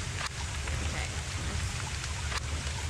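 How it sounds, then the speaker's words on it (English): Steady rain falls in the video game Don't Starve, an even broadband wash of drops with a low rumble underneath, continuous and moderately loud, with no voices. "I love listening to rain."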